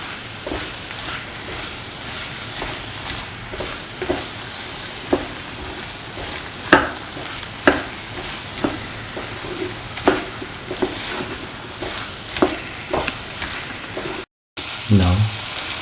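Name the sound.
stirring plantain cashew stir fry in frying pan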